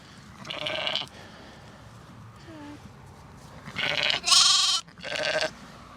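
Several loud close lamb bleats at lambing time, a pair of separate cries early then a rapid cluster of three near the end, with quiet barn noise between.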